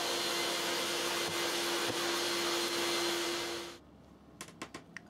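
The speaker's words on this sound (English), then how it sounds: "So now we just need to vacuum off the excess" A vacuum cleaner hoovers excess polyfiller dust off a fake concrete project, a loud steady whine with a fixed hum that cuts off near the end, followed by a few faint clicks and taps.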